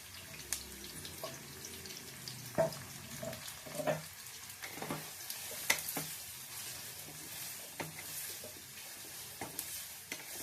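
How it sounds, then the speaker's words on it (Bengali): Chopped onions sizzle in hot oil in a home kitchen, a soft constant fry broken by scattered clicks and scrapes of stirring and utensils, with no voices. "তেলটা গরম হয়ে গেছে, এবার আমি দিয়ে দেবো পেঁয়াজ।"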